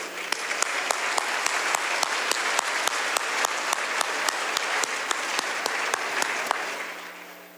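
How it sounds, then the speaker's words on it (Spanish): An audience gives a priest a welcoming round of applause, dense, even clapping held at a steady level for several seconds before tapering off at the end. "Recibamos con un aplauso al Padre Farías."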